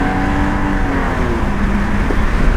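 A car fitted with nitrous (an LS2-engined E36) roars under hard acceleration, its loud engine note climbing steadily in pitch from a close interior perspective.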